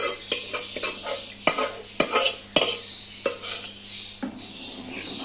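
A spoon stirs shredded mutton, masala and ghee into haleem in a pot, with repeated scraping strokes and metal knocks at an uneven rhythm, close up with a faint sizzle underneath.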